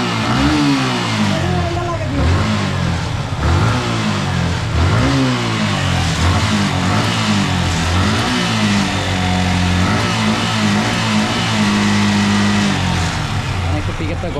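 A Yamaha MT15 motorcycle engine being warmed up is revved again and again, its pitch rising and falling in loud, close surges with voices talking over it.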